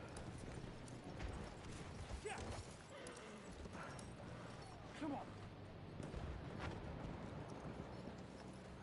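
Hooves clip-clopping from a horse in a video game during a BSR5 versus OGF friendly match, a steady rhythm under a continuous bed of game noise and talk.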